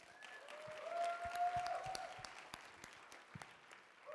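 Guests at a wedding reception applaud, a moderately loud, steady patter of clapping across the room that rises and then thins, with faint background noise and tones beneath.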